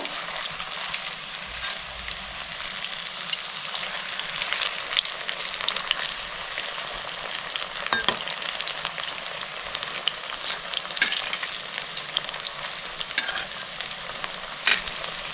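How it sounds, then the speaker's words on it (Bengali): Cauliflower pakoras deep frying in oil over a medium flame, a dense continuous crackling sizzle with scattered pops, steady and close, with no voices. "ফুলকপির পকোড়াগুলো একদম লাল লাল করে ভেজে নেব"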